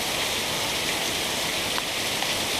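Heavy hurricane rain from Hurricane Harvey in Houston pours down in a dense, steady hiss, loud and unbroken throughout.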